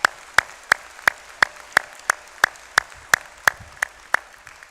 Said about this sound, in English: How about we give our education faculty a round of applause?